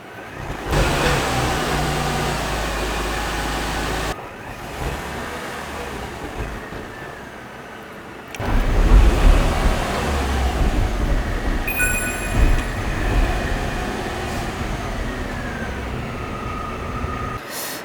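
A car runs with its brakes disabled, giving a steady rumbling drive noise with road roar that drops, returns and swells louder partway through, plus a few faint high squeaks. No one speaks.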